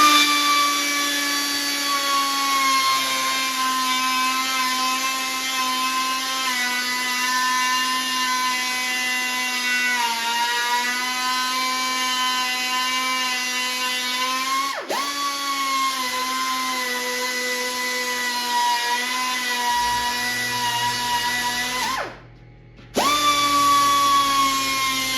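A power tool cuts a metal patch panel for rust repair on a 1959 Chevrolet Impala, producing a sustained high whine that wavers slightly in pitch as it bites, steady and close, with a brief stop near the end before resuming.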